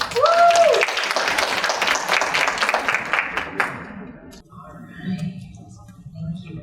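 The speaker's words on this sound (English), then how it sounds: "Please give her a round of applause." A conference audience applauds a speaker being invited on stage, clapping loud at first then thinning out and fading, with a brief whoop near the start and faint murmurs after.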